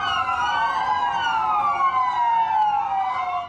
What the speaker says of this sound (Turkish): Polis araçları cenaze aracını takip ederken siren çaldı.